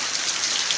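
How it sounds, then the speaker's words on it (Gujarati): Heavy monsoon rain pours down in a village, a dense, steady hiss of countless drops striking surfaces, loud and unbroken with no voices. "ધોધમાર વરસાદ પડે છે બરાબર।"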